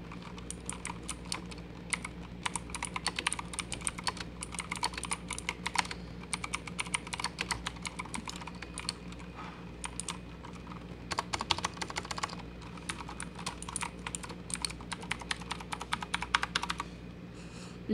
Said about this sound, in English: And now for typing.